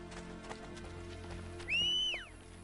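Horse sounds in Assassin's Creed Brotherhood: a brief, fairly loud whinny rises and falls near the end over quiet in-game background clatter, with hoof clip-clop tagged but not clearly visible.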